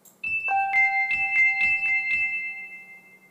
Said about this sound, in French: et ça fait carillon de porte en fait ce truc